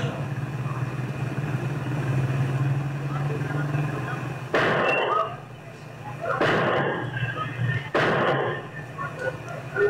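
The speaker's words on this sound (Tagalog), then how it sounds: "Maya-maya pa 3 sunod-sunod na putok ang maririnig." Three gunshots ring out in a row on CCTV footage of a street shooting by a suspect on a motorcycle, sharp broadband bangs spaced a couple of seconds apart over a constant traffic and engine drone.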